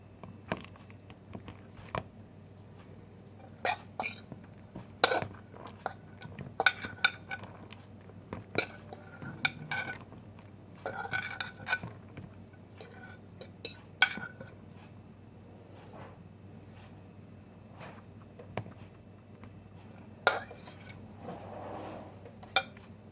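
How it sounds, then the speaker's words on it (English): Buttered rice spooned into a breakfast bowl with rice, egg, cheese and turkey, cold rice: scattered clinks and scrapes of a utensil against the dish over a low steady hum, close and intermittent. "now I'm going to add some buttered rice that I made"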